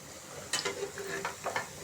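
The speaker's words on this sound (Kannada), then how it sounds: "ಸಣ್ಣ ಉರಿಯಲ್ಲಿ ಅದು ಕೆಂಪಗಾಗುವವರೆಗೆ ಫ್ರೈ ಮಾಡಿಕೊಳ್ಬೇಕು" Chattambade vadas frying in oil over a low flame, a soft bubbling sizzle with a few short clinks and scrapes of a utensil, close and fairly quiet, no talking.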